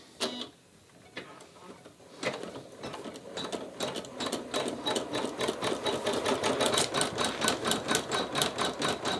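An embroidery machine stitches an outline on a tee through a wash-away topper, starting with a few scattered clicks, then settling into a fast, steady mechanical chatter that grows louder and more regular, close up and alone.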